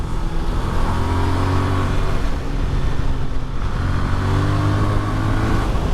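A Voge R625 motorcycle engine drones steadily on an open road, a continuous mid-pitched hum with slight rises and falls in revs, close and fairly loud throughout with no talking.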